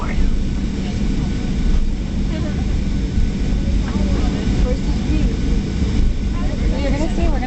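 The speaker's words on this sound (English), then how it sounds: "we're going to get speed right now. We're getting into the runway." Airplane engines roar steadily inside the cabin as the aircraft speeds down the runway for takeoff, a loud, constant rumble with voices faintly present.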